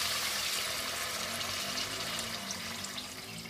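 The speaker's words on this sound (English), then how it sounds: "so let's add 3 cups of water." Water pours steadily into a hot pan of roasting liver and onions, a continuous rushing hiss at moderate loudness, with no voices.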